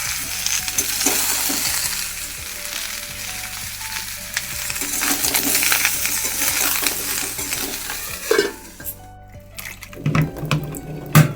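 Moong dal and vegetables tipped into a hot cooking pot, a loud busy sizzle with stirring and scraping throughout, then a few clattering knocks of utensils near the end as the frying quiets, with no speech.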